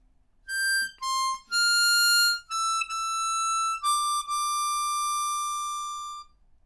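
Harmonica playing line H of a theme, a clean run of sustained blow and draw notes starting with a few short, separated notes and ending in a long held tone, heard alone and up close.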